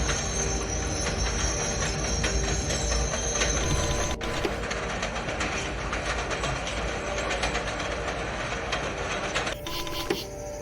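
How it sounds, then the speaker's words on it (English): Train ride in a PS1 video game: a steady, dense rumble and rattle of the carriage runs unbroken throughout, loud and close, with a brief shift near the end. "Now I'm on a train."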